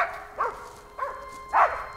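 Hunting dogs bark three times in short, separated yelps, at moderate distance over a quiet background, during a moose hunt.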